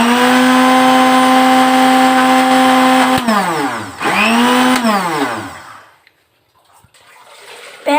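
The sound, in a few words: grinding spinach in a mixer grinder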